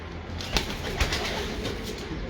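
Breeder pigeons coo in a short burst close by, with soft repeated calls over a dense, steady background murmur.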